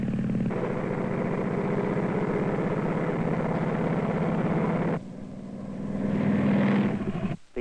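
A propeller-driven airplane drones steadily and loudly in flight, its engine tone holding for several seconds, then shifting and swelling again toward the end before cutting off briefly.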